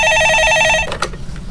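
A telephone rings loud and clear in a steady, even burst as a caller comes through on a stock-tips radio show. The ring cuts off, then brief studio noise follows.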